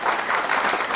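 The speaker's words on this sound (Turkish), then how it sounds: "Alkışlarla." A studio audience on a Turkish television talk show applauds as a guest is invited on stage, a loud, even burst of clapping that fills the brief moment.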